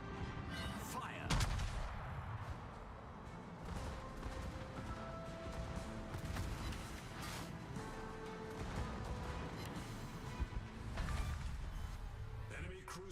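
A warship video game fires naval gun salvos, a steady run of booming shots and crackling blasts over a constant rumble of battle. The whole passage sits fairly low in level.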